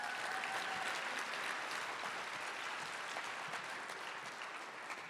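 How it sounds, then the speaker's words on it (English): Steady, dense applause from a lecture audience at a memorial lecture, a continuous wash of many hands clapping at moderate distance with no break and no talking over it. "Give him a round of applause."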